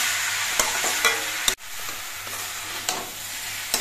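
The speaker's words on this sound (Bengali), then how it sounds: "এবার সব কিছু দিয়ে নিয়ে করে মিশিয়ে কিছুক্ষণ কষিয়ে নিতে হবে।" Boiled banana stem being stirred and sautéed in a hot pan for a Bengali vegetarian dish, a steady close sizzle with spoon scrapes and a few sharp knocks against the pan, no voices.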